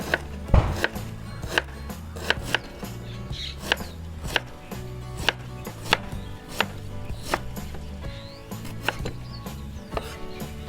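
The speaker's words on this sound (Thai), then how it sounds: "วิธีหั่นมะม่วงก็คือหั่นขวางด้านนี้นะคะ จะได้ไม่ชิ้นใหญ่มาก หั่นซอยค่ะ" Knife slicing mango on a cutting board, a steady run of crisp, close chopping taps in an even rhythm, alone without any talking.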